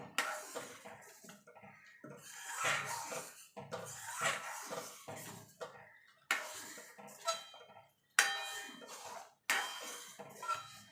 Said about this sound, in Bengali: এবার নেড়ে দেবো।